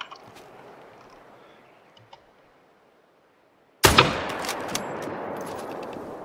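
A single hunting rifle shot in the hunting video game The Hunter: Call of the Wild cracks out suddenly after near silence, loud and close, followed by a fading rumbling echo.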